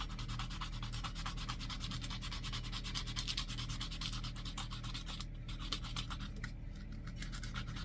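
Steady back-and-forth scratchy strokes of sandpaper rubbing a handmade wooden fishing lure along the grain, outdoors, close and quiet, in a continuous rhythm with brief pauses near the end.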